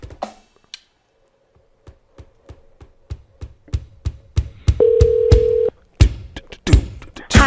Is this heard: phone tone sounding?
yes